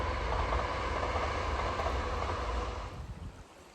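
Train rumbling past near a canal towpath on a still autumn day, a broad steady roar at middle distance that fades out toward the end.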